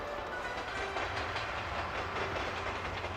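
A steam train on the SL Yamaghuchi Go line rolling along the rails, a steady close rumble with faint wheel clatter throughout and no voices.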